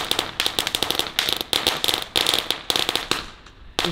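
Lidl consumer firecrackers set off outdoors in a rapid run of sharp, loud crackling bursts, with brief gaps between clusters and a final sparse pop.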